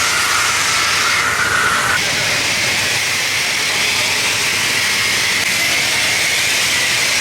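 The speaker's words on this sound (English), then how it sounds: "There's a piece of like the plastic or like the under tray that's dragging, so it sounds really, really bad." BMW E92 M3 driving with a loose plastic under tray dragging on the road, a loud continuous hiss and scraping roar that holds steady throughout, no voices.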